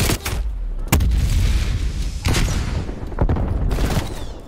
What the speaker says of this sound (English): How did my flashbang go off and not do anything to them?